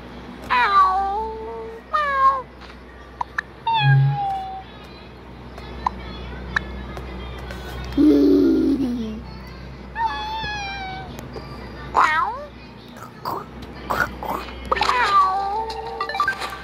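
A cat in the Toca Boca video game meows and wails repeatedly in short rising and falling cries, spread across the scene with brief pauses and a low growl midway.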